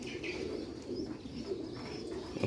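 Pigeons coo in soft, repeated low throaty phrases, close and fairly steady over a faint background hum, with a few light chirps mixed in.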